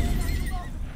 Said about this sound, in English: There's a horse. I can hear a horse. It's coming.